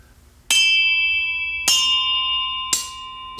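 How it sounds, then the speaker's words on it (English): Backup signal bells in the London Bridge Station signal box, three separate clear metallic strikes about a second apart, each ringing on with long sustained tones over a quiet room. "There were some backup bells, and they've all got different tones."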